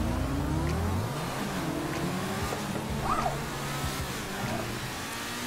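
A car accelerates in the GTA 5 video game, a steady engine roar rising in pitch through the gears with road and traffic noise, no talking.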